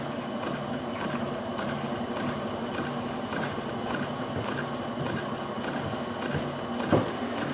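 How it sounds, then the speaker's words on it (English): A lathe turns a part with a continuous close mechanical whir and faint regular ticking throughout, steady in level with one small knock near the end. "this lathe doesn't spin as fast, and it definitely isn't as strong, but it's a good tool"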